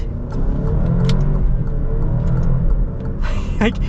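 Alfa Romeo Stelvio SUV accelerating, a loud, continuous engine rumble that holds steady through the clip, with a brief higher whine near the end.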